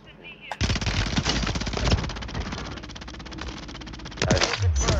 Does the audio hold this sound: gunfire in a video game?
yes